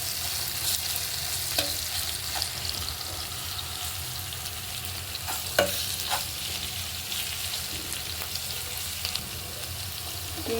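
Chopped onion and crushed garlic sizzle steadily in hot oil in a wok, with occasional stirring scrapes and small pops, close and continuous, with no talking.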